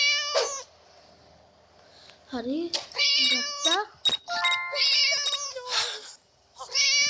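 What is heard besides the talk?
cat meowing in Scary Teacher video game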